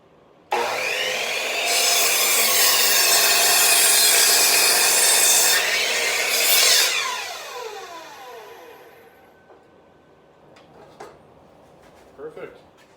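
A hand saw cuts through wood parts for a homemade squat rack, rapid rasping strokes loud and close for several seconds before slowing and tapering off into quiet clatter.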